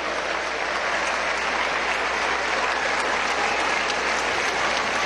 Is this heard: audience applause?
yes